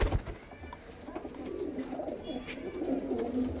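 Several pigeons coo steadily in a low, soft, continuous murmur, moderately close, with no talk over it. The birds are racing pigeons kept for long-distance flying, in Amritsar, Punjab.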